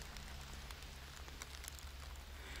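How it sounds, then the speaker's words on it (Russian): Soft, steady patter of light rain, a faint continuous hiss with scattered small drops. "Дождь моросит"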